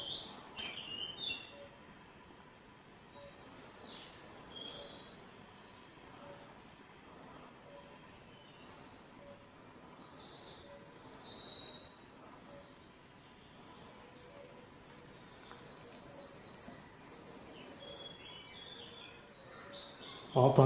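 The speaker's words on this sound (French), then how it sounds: "On entend un petit bruit d'oiseau au loin" Faint bird calls chirp far off in a quiet room, with scattered high tweets over a low hiss and a few brief insect-like chirps.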